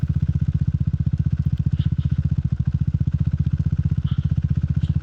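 A Triumph Scrambler 400 XC motorcycle rides off-road with a steady, close, thumping single-cylinder engine pulse and some clatter from the terrain, running continuously throughout.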